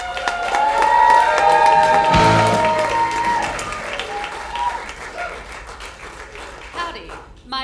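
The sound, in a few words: audience applause for comedian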